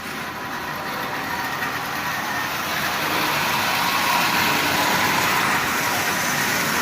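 A Marx Baltimore and Ohio number 82 toy diesel locomotive runs on track at half power, giving a steady, continuous whirring rumble with broadband noise that swells slightly midway and stays even throughout.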